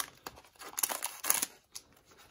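Scissors snip open a football card cello pack up close, several quick crisp cuts mixed with crinkling plastic, with no talking.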